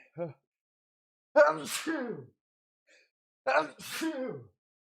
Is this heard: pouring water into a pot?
no